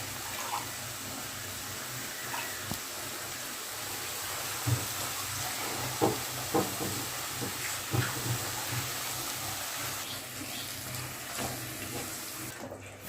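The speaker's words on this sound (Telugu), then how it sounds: "ఫ్రై అయిన తర్వాత వాటర్ అనేది యాడ్ చేసుకోవాలి." Water poured into a pot of mushroom curry, a faint steady stream with a few soft knocks and splashes.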